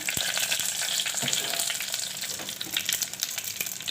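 Dried red chillies, mustard seeds and urad dal frying in hot oil, a continuous bright sizzle with scattered crackles and pops, fairly close and steady.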